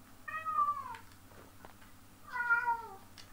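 A pet cat, just in from an outdoor cat run, gives two clear, drawn-out meows about a second and a half apart, close by, over a low steady hum.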